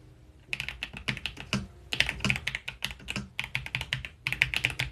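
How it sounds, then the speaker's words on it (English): Rapid clicking of keys on a computer keyboard, typed in quick bursts with short pauses between, close and clear with no voices. "It's my new keyboard."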